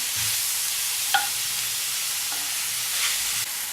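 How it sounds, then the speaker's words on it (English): Oyster, shiitake and chestnut mushrooms with garlic fry in coconut oil in a cast iron pan, giving a steady, close sizzle broken by a few faint clinks and stirring sounds, with no talking. "We're heating up a bit of coconut oil in a cast iron pan"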